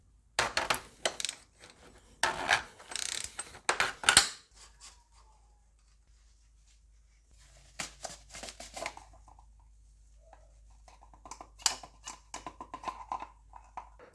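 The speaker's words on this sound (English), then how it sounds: "Now let's remove the oil filter cap. I've got this universal socket." A universal socket working loose the oil filter cap on a Mercedes W204 C180 CDI with the OM651 diesel engine, making close metallic clicks and ratcheting scrapes in two bursts separated by a quiet pause, with lighter clinks at the end.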